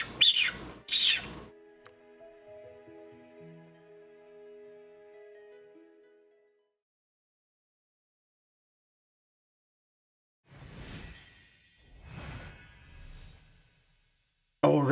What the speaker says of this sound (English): Oh, the bird's back.